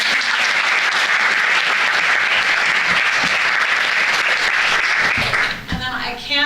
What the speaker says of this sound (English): if you could give yourselves a big round of applause